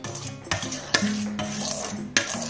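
A spoon scrapes through creamy tofu sisig in a pan, close up, with a few distinct stirring strokes and soft rubbing in between.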